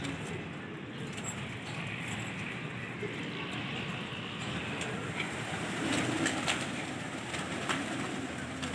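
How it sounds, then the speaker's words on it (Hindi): Pigeons coo softly amid the hiss of an outdoor setting where pigeons are flown, with a steady wash of background noise and a few faint clicks. "एक कबूतर आया हुआ"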